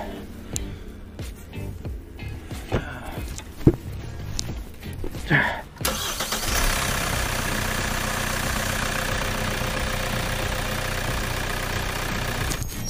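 A car engine cranks and settles into a steady, continuous idle after a DIY engine oil change, loud and close, following quieter handling noises and brief talk.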